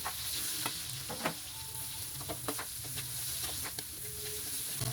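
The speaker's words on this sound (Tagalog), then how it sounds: "magisa na tayo ng bawang," Garlic and onion sautéing in a pan for bihon guisado make a continuous, close sizzle broken by small crackles and the occasional scrape of stirring, with no voices.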